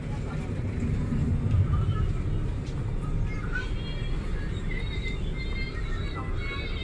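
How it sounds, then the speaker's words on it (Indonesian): Heavy, constant drone of a ship engine heard from a passenger deck of KM Tidar, a dense low rumble close by and unbroken, with faint higher mechanical whines drifting over it. "karena itu suara mesin kapal, salah satu mesin kapal ya."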